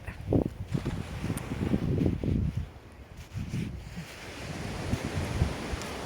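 Sea waves wash onto the beach at Arenys de Mar in Catalonia, a steady surf roar with soft breaking swells and wind buffeting the microphone, no talk.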